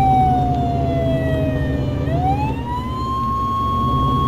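Emergency vehicle sirens wail loud and close in the game Flashing Lights, a steady tone that dips and then rises again over a rumbling engine.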